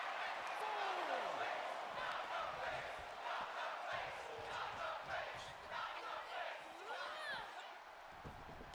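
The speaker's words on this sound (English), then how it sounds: "I have yet to hear that crowd chant." An arena crowd in the wrestling video game WWE 2K22 chants and roars continuously, a dense, steady wall of voices with rising whoops, loud and unbroken throughout.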